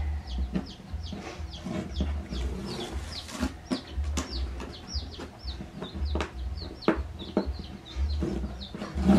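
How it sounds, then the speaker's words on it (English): Backyard farm chickens cluck and chatter steadily close by, many overlapping calls forming a busy, continuous flock sound with no talking. "Our farm's chickens."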